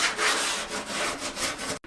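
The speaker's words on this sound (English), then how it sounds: "you just want to use a little wire brush" A small wire brush scrubs debris and grit from a car's fender lip in quick, close back-and-forth rasping strokes that continue steadily, then stop abruptly near the end.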